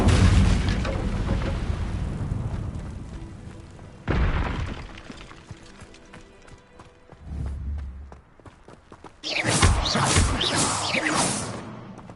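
A fire spell cast in Hogwarts Legacy: a loud burst of roaring, crackling flame effects with booming impacts and whooshes, several separate blasts with a quieter stretch between, no talk.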